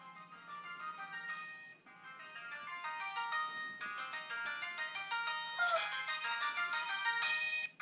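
A cell phone plays a melodic chiming ringtone, a bright tinkling tune of repeated electronic notes that grows gradually louder over a quiet room background.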